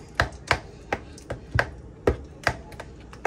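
Lasagna mixture is stirred by hand in a bowl with a utensil, making a run of sharp, fairly loud knocks at an uneven, roughly half-second rhythm, with no talking.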